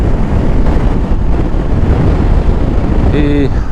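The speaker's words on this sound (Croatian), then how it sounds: "Ali ovaj vjetar nas ubija, znači cijeli dan." Strong wind buffets the microphone on a motorbike ridden in a steady crosswind toward Golubac, a loud continuous roar with a brief tonal whine near the end.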